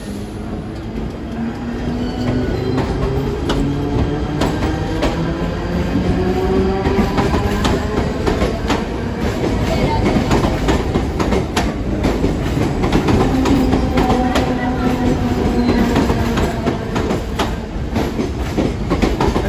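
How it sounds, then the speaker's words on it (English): A Mumbai suburban train pulls away toward Vashi, steady rumble and rhythmic clickety-clack of wheels over rail joints, with a screech from the wheels building mid-clip, close and continuous throughout. "There goes Mumbai train off to Vashi."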